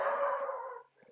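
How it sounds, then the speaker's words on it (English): A dog gives one drawn-out howl close by, steady and fairly loud for about a second before trailing off into near silence; it happens in the room during a tabletop role-playing game session. "Sorry about the dog."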